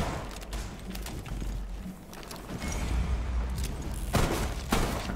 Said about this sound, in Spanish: Es una explosión muy grande, ¿no?